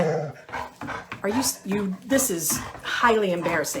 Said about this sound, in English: Oh my God, that's my dog.